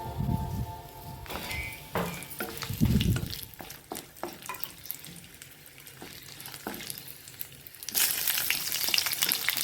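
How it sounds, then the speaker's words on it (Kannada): Curry leaves, dried red chillies and crushed garlic crackle and spit in hot oil, close-up bursts of sizzling broken by stirring scrapes, louder again near the end, with no voices. "ಇದು ಕರಿಬೇವಿನ ಸೊಪ್ಪು, ಒಣಮೆಣಸಿನ್ಕಾಯಿ, ಜಜ್ಜಿರುವಂಥ ಬೆಳ್ಳುಳ್ಳಿನೂ ಹಾಕಿ ಎಣ್ಣೆಯಲ್ಲಿ ಫ್ರೈ ಮಾಡಬೇಕು"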